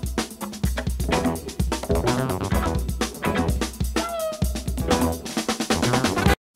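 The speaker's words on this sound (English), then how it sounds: "I thought that snare sounded dope and something that we could use" Sampled snare drum hits from a jazz record, loud punchy cracks repeating in a steady rhythm over a busy band with horns and bass, cutting off abruptly at the end.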